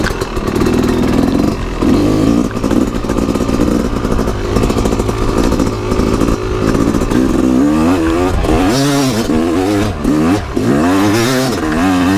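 A Yamaha YZ250 two-stroke dirt bike climbs a steep hill on Quaids Road, its engine loud and close, revving hard and rising in pitch in repeated surges without a break for the whole stretch.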